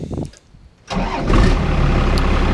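Starter cranks briefly before a first-gen Dodge truck with a Cummins diesel fires and settles into a loud, rough, steady idle up close.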